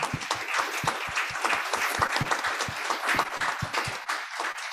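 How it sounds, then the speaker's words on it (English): A conference audience applauds at an opening keynote, a sustained round of clapping with distinct individual claps, moderately loud and steady before easing slightly. "I would like to give them a big round of applause right now"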